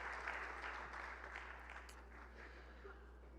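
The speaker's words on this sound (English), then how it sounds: "round of applause for all of our employees who earned" Audience applause for employees honored for years of service at a university semester opening session, a sustained, even clapping that holds steady and eases slightly toward the end, with a low constant hum beneath.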